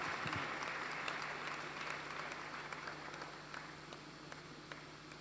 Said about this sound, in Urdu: آئیے خدا ان کے پاک روح کے لیے زوردار تالیاں دیں۔